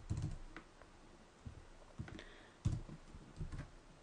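Keys clatter on a computer keyboard while someone types code for a WordPress theme, in short uneven bursts of soft clicks with brief pauses between them, close and fairly quiet.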